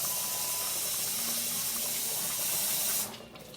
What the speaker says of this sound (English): So I'm going to wash this rice.